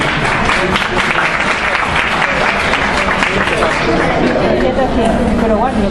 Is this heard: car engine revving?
no